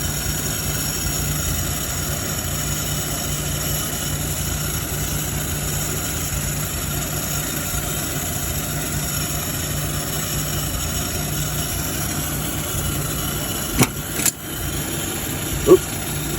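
An old 1951 Plymouth engine, revived after years of sitting, idles steadily with a constant hum and a few sharp knocks near the end.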